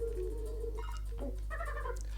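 A cartoonish bird cry from Donkey Kong Country 3, a few short warbling game chirps over a steady low background hum.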